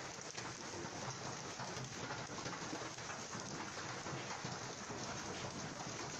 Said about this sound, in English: Torrential rain, strong winds, and large hailstorms swept across the island